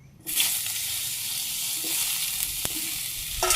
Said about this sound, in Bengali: তেলও গরম হয়ে গেছে দিয়ে দিই সরিষাও ফোড়ন এসে গেছে আমগুলো দিয়ে দিই